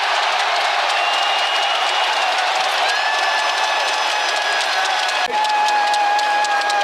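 A basketball arena crowd applauds the players at an NBA playoff Game 6 between the LA Clippers and Utah Jazz. Dense, steady clapping and cheering fill the space continuously at high volume.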